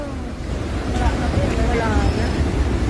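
Storm surge waves from Typhoon Uwan crash against houses, a loud continuous roar of surging water and wind up close, with frightened voices talking over it.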